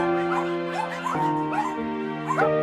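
A mother dog in a cage whines loudly for her puppies, a continuous high, pleading whimper with rising yelps repeated about every half second, close and alone.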